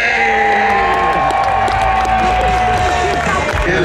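A big arena crowd at a UK monster truck show cheers and hollers in a loud, continuous roar, with voices and whoops layered densely throughout.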